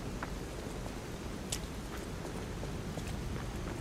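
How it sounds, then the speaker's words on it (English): Steady rain in the video game Lies of P, a soft continuous hiss with a few faint scattered drop ticks, staying in the background with no voices. "I can hear the rain, but can't see it."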